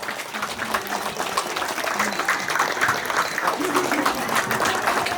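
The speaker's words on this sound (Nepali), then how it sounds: "सबैजनाले ताली बजाउनु छ।" An audience claps together in a steady, crowded stretch of applause that builds slightly and holds strong. Faint voices murmur underneath.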